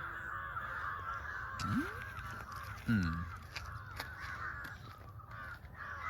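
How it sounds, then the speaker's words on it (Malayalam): A crow caws twice, a single call followed by a harsher, closer one, over a steady outdoor hum on a hill at evening. "കാക്കാച്ചി പറക്കുന്നു."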